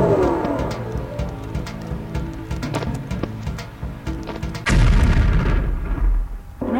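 A bomb goes off in the Neopets Altador Cup video game, a loud sudden boom that follows a stretch of busy game effects and clatter, with the rumble then sustained for a couple of seconds.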